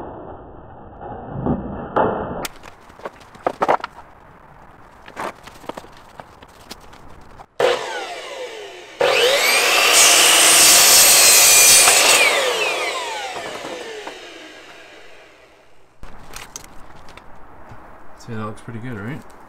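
A power saw cuts a board for repairing squeaky stairs in one loud burst of about three seconds, whining as it bites through the wood, with quieter workshop clatter and handling before and after.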